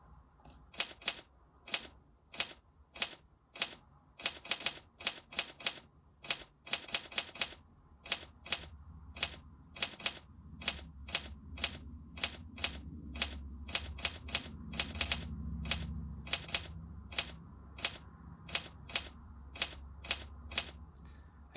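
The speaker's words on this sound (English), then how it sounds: "we're going to be creating this typewriter effect" A typewriter-style text animation built in JavaScript gives off a sharp, steady series of mechanical key clacks. The rapid strikes come close and loud, sometimes in quick bursts, with a low hum underneath.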